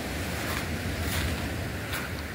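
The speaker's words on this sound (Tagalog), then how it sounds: "Ito ang dagat namin dito." Sea waves at Sumadag Beach in Maconacon, Isabela wash in as a steady broadband roar with soft surges, mixed with wind buffeting the microphone, no voices.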